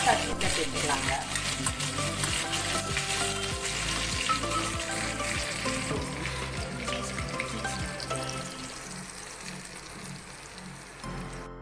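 A tempering of mustard seeds, three dried red chillies and curry leaves sizzles in hot oil, a loud, dense crackling fry that runs without a break and eases slightly toward the end.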